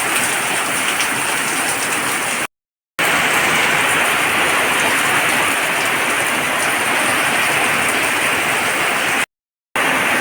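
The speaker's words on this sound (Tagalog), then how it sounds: "lakas ng ulan" Heavy rain pours down steadily in a dense, loud hiss during street flooding. It drops out for two short breaks and then resumes at the same intensity, with no voices over it.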